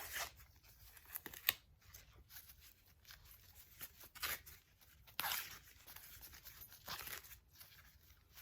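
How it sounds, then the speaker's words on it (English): Corn husks peeled outdoors while shucking moldy-skinned ears of corn, quiet dry tearing and rustling strips in irregular bursts, close up and alone with no talk. "I'm outside and I'm shucking some corn."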